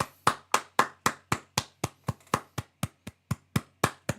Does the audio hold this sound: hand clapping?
yes